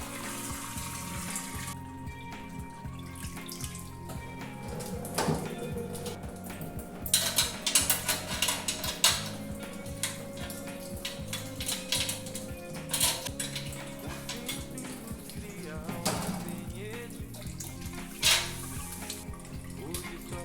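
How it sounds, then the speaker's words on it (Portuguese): Wort drains from a lifted grain basket while beer is brewed in a single vessel, with running and trickling liquid, metal pot clanks and rattling handling throughout, moderately close. "Vamos erguer o cesto de grãos"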